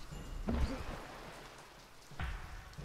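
Rain in the video game Nantucket patters steadily, with a couple of louder thuds breaking through the wash of falling water.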